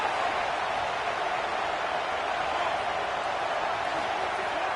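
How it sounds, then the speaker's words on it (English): A dense stadium crowd at a football game roars in a steady, unbroken wash of noise as the action nears the goal line, loud and sustained throughout. "Listen to this crowd just shaking the girders of this place"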